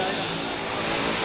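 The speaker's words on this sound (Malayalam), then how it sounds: "ഇതാണ് ഞങ്ങൾക്കുള്ള വിമാനം." A small passenger plane seating fourteen, parked on a Tanzanian airstrip, gives off a steady droning engine hum with a broad noisy wash, close and continuous for a brief moment.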